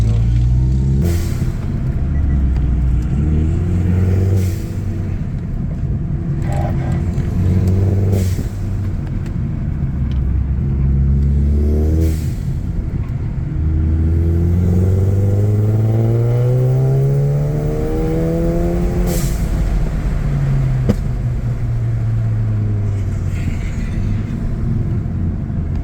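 A 2018 Hyundai Elantra Sport on an autocross lap, its engine droning loud and close inside the cabin, rising and falling through repeated gear changes and accelerations.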